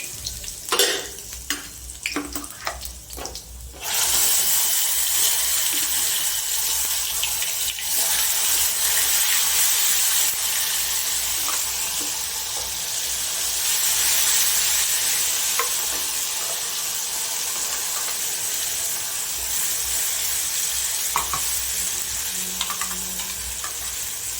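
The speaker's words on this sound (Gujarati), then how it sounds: "આપણે જે ગ્રેવી બનાવી છે ને એ ગ્રેવી એકદમ ગેસ ધીમો કરી અને નાખીશું" Gravy poured into tempered oil with spices and garlic over low heat for a Kathiyawadi mixed vegetable dish: a few utensil clinks, then a loud, steady broadband sizzle that continues evenly to the end, without speech.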